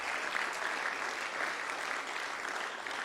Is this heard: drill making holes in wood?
no